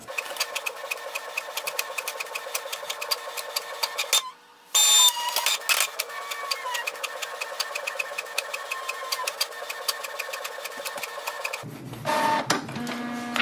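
A Canon Pixma TR4650 inkjet printer making a two-sided copy whirs and clatters steadily with repeated mechanical ticks, a brief pause mid-cycle, then a louder paper-feed burst near the end, close and alone with no talk.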